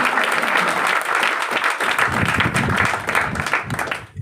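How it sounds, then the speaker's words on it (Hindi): Loud, sustained applause from an audience at a leadership ceremony, a dense wash of clapping that swells and thins, with voices murmuring underneath toward the end. "एक बार जोरदार तालियां आप सभी के लिए।"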